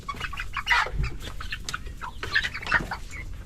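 A flock of chickens being driven out of a workspace clucks and squawks in irregular, overlapping calls, fairly close, with brief flurries of movement between them.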